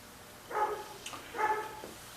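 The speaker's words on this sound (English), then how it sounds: "What am I hearing? The dog barking." A dog barks twice, fairly close and moderately loud, in a quiet indoor room with no one talking.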